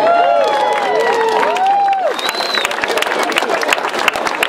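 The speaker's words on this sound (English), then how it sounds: "A big round of applause once again for all of you." Crowd applause and cheering at a charity 5k walk kick-off raising funds for lung cancer, dense clapping sustained throughout with a few scattered shouts, loud and close, with no talking over it.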